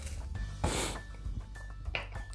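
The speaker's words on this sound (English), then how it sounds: "if y'all hear me sniffling, it's because onions make you cry, and it also makes you sniffle" One short, sharp sniffle from a person cutting onions in a home kitchen, with faint clinks of kitchenware before and after.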